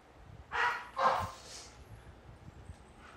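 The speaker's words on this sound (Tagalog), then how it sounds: "Pasensya na kayo sa aso ha." Two quick dog barks ring out at a short distance, followed by a fainter third yip, over a quiet, low background hum.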